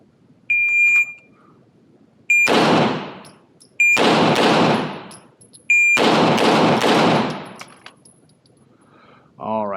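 Pistol fired in pairs during a distance progression shooting drill, each loud crack starting a long burst of gunfire, with short electronic timer beeps before the strings and gaps of near silence between them.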